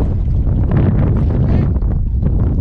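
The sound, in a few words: strong wind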